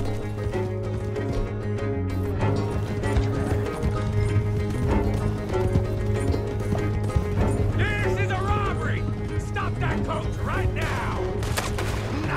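Horses gallop in Red Dead Redemption 2 with a steady drumming clip-clop under loud, continuous music and game sound. Voices shout over the ride.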